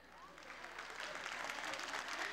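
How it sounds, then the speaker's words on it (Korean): Congratulatory applause from a studio audience on a 1983 Korean live broadcast reuniting separated families, a dense crowd clapping that swells gradually and holds steady, moderately distant with faint room tone. "여러분 축하의 박수 좀 쳐주세요."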